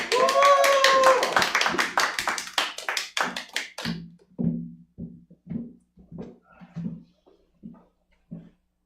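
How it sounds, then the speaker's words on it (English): An audience at a Small Business Saturday variety show claps for a musical artist, a dense burst of applause with a voice at the start that thins into sparse, scattered claps. "please join me and clap really loud and get really excited"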